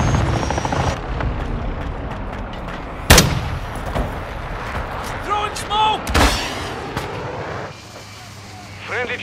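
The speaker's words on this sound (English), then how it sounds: "Chopper gunner on station." A helicopter gunship arrives in a military video game amid heavy combat, with loud gunshots and explosions bursting over a rumbling rotor drone, and a radio-style voice speaks over the battle noise.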